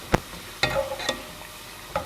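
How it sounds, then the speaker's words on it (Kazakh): Kernels frying in bubbling hot oil for Kazakh nomadic popcorn, a low, steady sizzle with a few separate sharp pops or utensil clinks spread across two seconds. "Май қайнап тұрған майға тез піседі."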